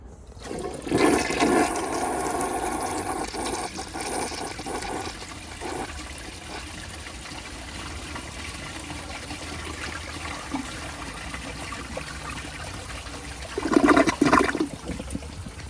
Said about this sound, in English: that's a good flush, but can't get all of it out.